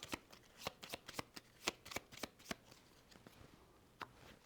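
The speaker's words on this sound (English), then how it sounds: "Shuffling those." A deck of Shephy game cards is riffled and shuffled up close, a quick run of sharp flicking snaps that slows and trails off into a single last tap.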